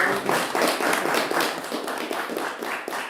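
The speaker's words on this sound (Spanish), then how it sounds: "Un aplauso para hacer." An audience at an open talk claps steadily throughout, a dense, even burst of applause with no voices.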